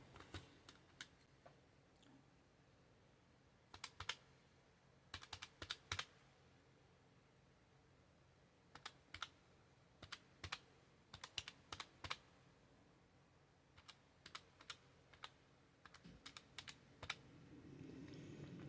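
Calculator keys tapped to add up monthly budget expenses, in quick clusters of light close clicks spread over quiet pauses, with no talking.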